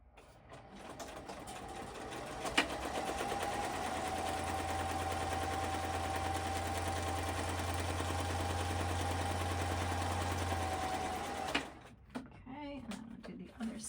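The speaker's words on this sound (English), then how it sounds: "sewing machine is off camera. So let me just do this real quick" A sewing machine runs steadily for about nine seconds with a continuous mechanical whir and a low hum, then stops. Faint clicks and handling noises follow.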